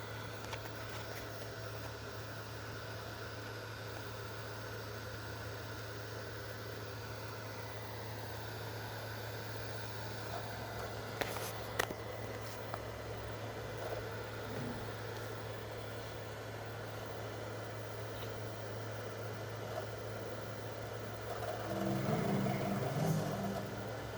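Continuous loud fan whir from an original (fat) Xbox 360 console, a steady low hum holding level throughout, with a few faint clicks and a brief rise near the end.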